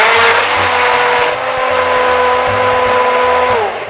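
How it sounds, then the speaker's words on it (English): A loud Hamilton blender runs steadily blending aioli, its motor whirring with a constant pitch that shifts slightly, close up and uninterrupted. "I got my Hamilton blender in there and now I'm just gonna blend."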